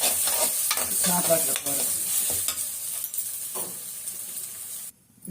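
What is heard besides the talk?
egg with pepper frying in a pan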